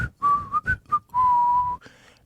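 A person whistles a short tune alone, a few clear notes followed by one long held tone, close and distinct against quiet.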